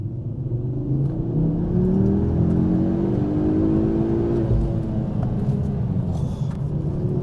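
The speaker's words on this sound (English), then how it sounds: "another thing I love about this car, the noise it makes" A turbocharged five-cylinder engine in a Ford Focus RS rumbles loudly from the cabin while driving, rising steadily in pitch under acceleration with a smooth, continuous drone and no talk.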